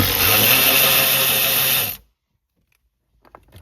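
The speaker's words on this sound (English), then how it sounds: "I'm going to be putting on an electric ratchet" An electric ratchet works on bolts of a 2018-2021 Ford Expedition, a loud, steady motor whir close by for about two seconds before cutting off to near silence with faint clicks.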